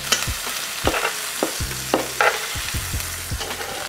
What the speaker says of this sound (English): the key to this recipe is searing the meat